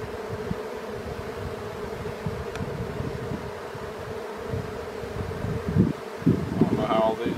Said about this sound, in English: I don't know how all these bees fit into that box.